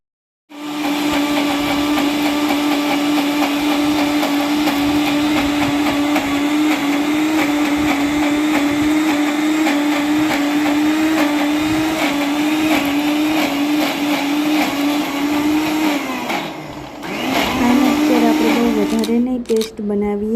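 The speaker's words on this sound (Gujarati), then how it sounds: "હવે આને આપણે મિક્સર કરી દઈશું, જેમાં લીલી મરચી, આદું અને તીખા એડ કરીશું." A mixer grinder whirs loudly and steadily as it grinds soaked dal with green chili and ginger, then slows and winds down near the end. Talk can be heard alongside the whine.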